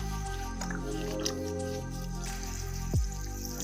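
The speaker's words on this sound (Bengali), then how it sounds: "জল দিচ্ছি।" Water is poured onto a marigold plant at home, giving soft, quiet drips and wet squishing splashes close by, with a brief louder gurgle near the end.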